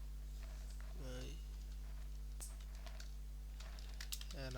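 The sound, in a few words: typing on a computer keyboard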